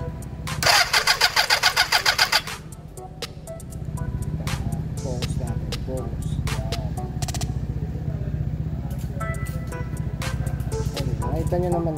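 A Suzuki Impulse 400 motorcycle engine, just fitted with a repaired coil, cranks with a rapid rhythmic starter churn, then catches and settles into a steady, close idle with light clicks and rattles.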